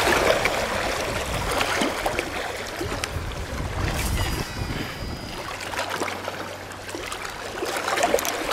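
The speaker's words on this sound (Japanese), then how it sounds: "まあ波の音があるからいいけど" Small waves lap against the Lake Biwa shore during bank fishing for bass, a continuous soft washing and splashing, near and moderately loud, with a low rumble in the background.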